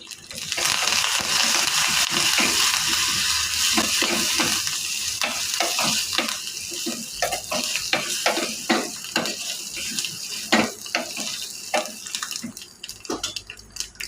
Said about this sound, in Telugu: రెండు కరివేపాకు కూడా వేసుకోవాలి వేసుకొని ఇవన్నీ బాగా వేగనివ్వాలి